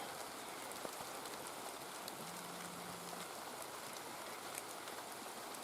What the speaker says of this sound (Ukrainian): сьогодні цілий день дощ